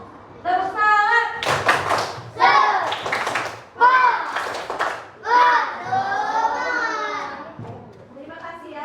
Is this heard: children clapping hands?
yes